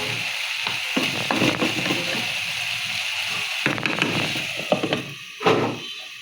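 Potato bhaji fries under a lid in a pan with a steady, close, dense sizzle and crackle, broken by a few louder pops and stirring clatters near the end.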